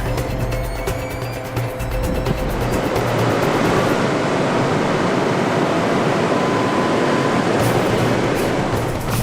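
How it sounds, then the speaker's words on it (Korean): Loud, roaring surge of typhoon Bolaven waves crashing over a coastal seawall in Busan, a continuous heavy wash of water that swells and churns without a break, close and dominant. "파도가 해안 옹벽을 넘어 해안도로까지 밀려오면서"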